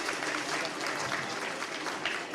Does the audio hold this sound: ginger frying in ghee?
no